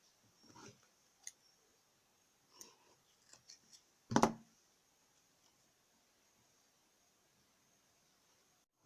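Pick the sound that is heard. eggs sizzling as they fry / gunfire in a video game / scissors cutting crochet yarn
scissors cutting crochet yarn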